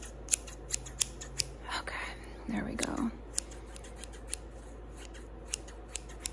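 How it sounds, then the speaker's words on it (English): Craft project scissors cut hair in a close-up ASMR haircut, crisp metallic snips repeating roughly every half second over faint rustling, while a soft voice speaks briefly in the middle. "I need stronger craft project scissors for this because we gotta go in."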